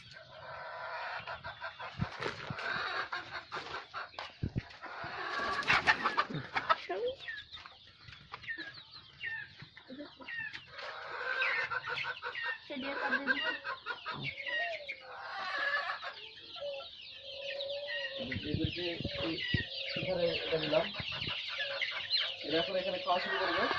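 Chickens cluck and squawk continuously throughout, a busy flock of chicks, some sick and dying, nearby with overlapping calls and some rustling.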